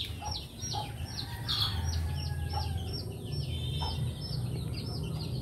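Chickens and chicks in a barn, repeated soft clucks and high peeping calls over a steady low background hum, fairly faint.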